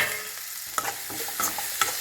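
Green chillies frying in hot oil in an aluminium pan give a soft, steady sizzle close by, broken by a few light scrapes and clinks of stirring.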